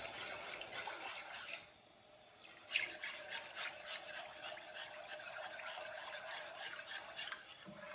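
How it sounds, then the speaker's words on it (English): Curry paste being whisked into coconut milk in a kitchen, quiet rapid scraping strokes of a whisk against the bowl, pausing briefly before resuming with a small clink. "Whisk."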